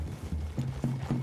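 Horse hooves clip-clop on ground in the Red Dead Redemption 2 video game, a quick run of evenly spaced, close hoof beats.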